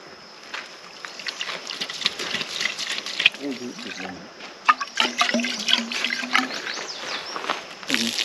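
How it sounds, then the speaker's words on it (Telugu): Bamboo tubes for bamboo chicken are washed in water, giving splashing and trickling sounds close by with bursts of rubbing and sloshing, while people talk over it. "అట్లా వాష్ చేసుకోవాలి బొంగుని బాగా"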